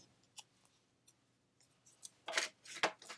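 Scissors cut out a white cardstock label sticker, starting with a few light, sparse snips and ending in louder, crisp close cuts, with no talking.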